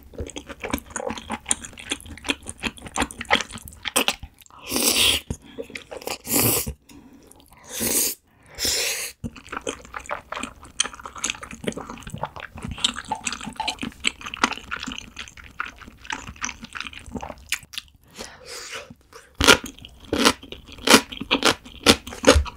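Close, wet chewing and slurping of spicy Yeopgi tteokbokki with wide glass noodles and bunmoja, coming in irregular bursts with brief pauses and a few sharp louder crunchy bites, with no talking.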